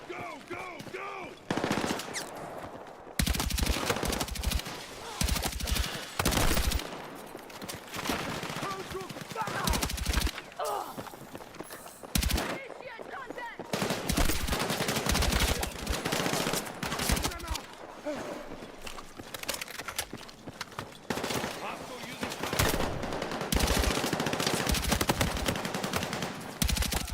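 Suppressive gunfire in the video game Battlefield 6, loud continuous bursts of automatic weapon fire with brief pauses, dense and close throughout.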